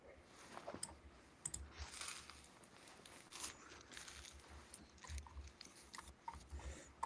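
Someone types on a computer keyboard, producing faint, scattered clicks and taps in short irregular bursts against a very quiet background.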